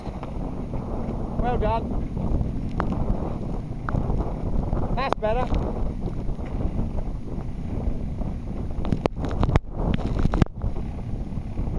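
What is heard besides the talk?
wind gusts while sailing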